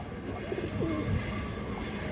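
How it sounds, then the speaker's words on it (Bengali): A female breeder pigeon coos softly a couple of times at close range over low background noise, with no speech. "এটা ব্রিডার মাদি কবুতর দর্শক, খুবই সুন্দর"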